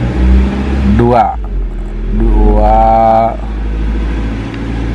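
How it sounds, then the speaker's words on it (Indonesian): A car engine revs twice as the gas pedal is pressed, rising in pitch then falling back, the second rev longer and held, close and loud with someone talking over the idle between. "Nah ini posisi gas kita injak, kita lihat di sini RPM."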